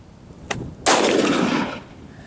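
Rifle firing a 7.62x39 123-grain full metal jacket round at fiberglass barrier panels on a range: a faint tap, then one loud, sharp close report with a broad rumbling tail lasting about a second.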